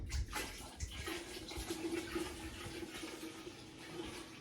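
Homemade bone broth poured from a pot into a pan in a home kitchen, a steady liquid splash and gurgle lasting several seconds, moderately close and fairly quiet, with no talking.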